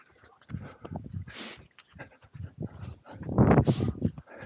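Dog panting during frisbee training, quick rhythmic breathy pants in bursts close to the microphone, mixed with faint thumps and movement and a louder flurry toward the end.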